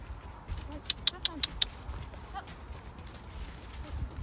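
A horse trotting during a beginner riding lesson gives five quick, crisp hoof clip-clops in an even rhythm, close by, with quiet outdoor background after.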